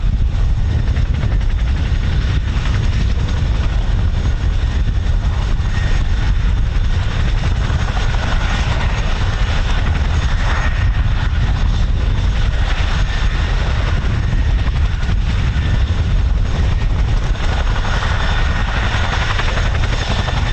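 Military aircraft at the RAF Holbeach air weapons range, spooling up for takeoff: a loud, steady engine roar with heavy low rumble that holds constant throughout, no voices present.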